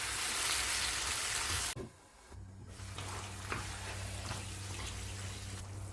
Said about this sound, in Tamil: சிக்கனை சேர்த்து வதக்கிக்கலாம். பச்சை கறி மாறுற வரைக்கும் வதக்கிடலாம்.